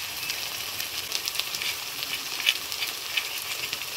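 Spice pastes of tomato, chilli, ginger and cumin hiss and sizzle steadily in hot oil in a Bengali home kitchen, a continuous bright frying crackle with a few sharper pops and no talking.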